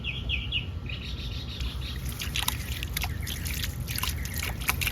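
A solar-pump garden water fountain, running without a hose, trickles and splashes softly at a low level, with outdoor birds chirping over it.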